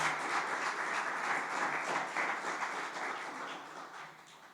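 A church congregation applauds in a sustained, dense round of clapping that fades slightly toward the end, with no speech over it.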